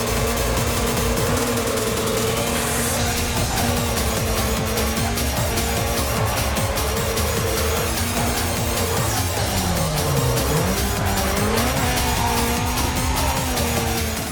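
Tires squeal in long sweeping slides as a race car drifts in Need for Speed on PlayStation 3, the BMW M3 GTR engine roaring loud and constant beneath, the squeal bending in pitch through the turns.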